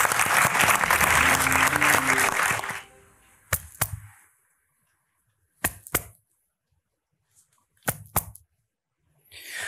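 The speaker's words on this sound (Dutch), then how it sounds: "Mag ik een heel warm applaus voor Tyler Koudijzer." A warm round of audience applause at a cultural history lecture fills the first three seconds, then fades, leaving only a few sharp, isolated clicks and knocks in near silence.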